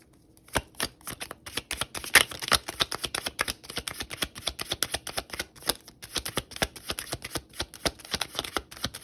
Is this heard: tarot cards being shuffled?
yes